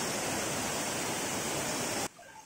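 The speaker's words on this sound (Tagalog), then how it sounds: "Ito yung mas malaking falls dito." A large waterfall at a forest campsite, Pinlac Falls, roars as steady, dense broadband rushing water, loud and continuous, then cuts abruptly to a much quieter, softer wash in the final half second.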